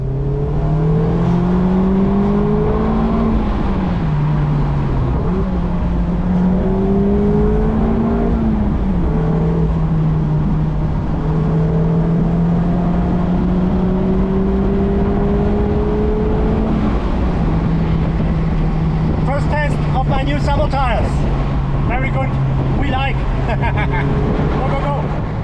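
Mazda MX-5 engine pulling hard on a drive toward Germany's Black Forest National Park, revving up through several gears with rising and dropping pitch, loud and close, with brief chatter near the end.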